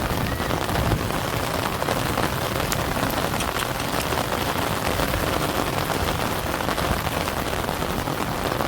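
Heavy rain from the first downpour of the Sawan monsoon month pours down outdoors in a dense, even hiss of drops that continues without a break.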